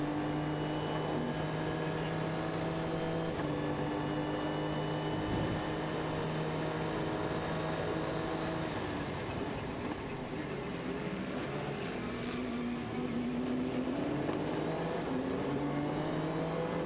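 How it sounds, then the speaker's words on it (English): A turbocharged P2 prototype race car runs onboard at Road America, its engine a continuous, smooth drone with slowly shifting pitch rather than a snarly note, steady and loud throughout. "with those turbos, it is not that snarly engine note"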